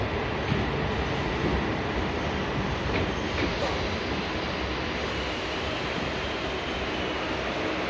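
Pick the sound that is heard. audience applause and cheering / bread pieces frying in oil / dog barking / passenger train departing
passenger train departing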